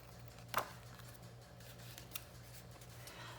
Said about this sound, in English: And so I'm just trimming that off.